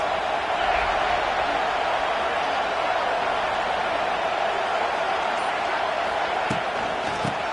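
Crowd noise fills a football stadium in a steady, dense roar that holds level from start to finish, with a couple of faint thumps near the end.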